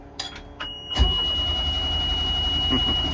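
A boat's marine engine is cranked with its compression relief stop left in the wrong position: short starter bursts, then a steady rumbling motor that keeps running at a constant level, with a thin whine above it.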